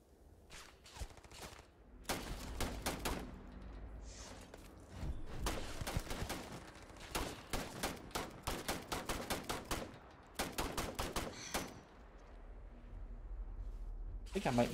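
Repeated bursts of gunfire crackle through a long-range fight in Starfield, with rapid volleys separated by brief pauses, loud and close under a steady game background.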